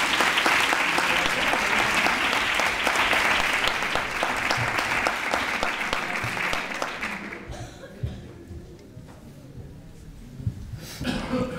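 Loud, dense audience applause at the Three Kings proclamation and coronation ceremony in Nerva, Spain, in 2020. It holds steady for about seven seconds, then quickly fades to scattered claps and room murmur.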